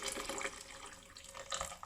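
Water pours and splashes into a pot of dried prunes and apricots for Lithuanian sweet soup, a short, steady gush lasting under two seconds.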